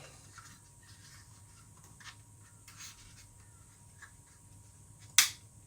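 Faint rubbing and fiddling, then one sharp, crisp click as a gun mechanism snaps into place, close by in a quiet room.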